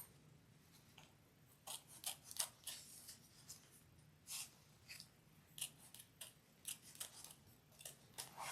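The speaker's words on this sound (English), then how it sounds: "going to do a little trimming again, just with this lining." Scissors trim bag lining fabric in a series of close, crisp snips, irregular short cuts separated by brief pauses, quiet and alone without talk.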